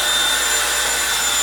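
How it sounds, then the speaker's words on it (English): A vacuum cleaner runs loud and close while an apartment is being cleaned, a steady, unbroken roaring whoosh with no speech. "Vacuum some more. That's loud."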